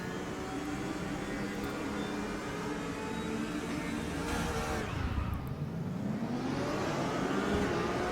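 GTR3 race cars in RaceRoom at the Nürburgring launch into the race start, a dense roar of engines revving and shifting up, with a rising whine as one car pulls away, loud and continuous.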